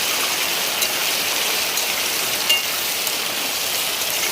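Heavy rain falls in a continuous, even hiss, with a few faint knocks and drips standing out near the end and no one speaking.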